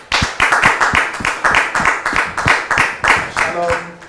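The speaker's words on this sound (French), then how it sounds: "merci de recevoir ici et maintenant Monsieur Sostène sous vos applaudissements, s'il vous plaît." A TV show studio audience claps to welcome a guest, with rhythmic bursts of clapping filling the room and a voice briefly rising near the end.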